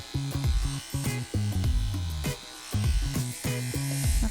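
An electric clipper fitted with a 30 blade under a 0 guard comb trims a standard poodle's top knot, buzzing in short repeated passes that start and stop, with slight pitch shifts as it meets the coat.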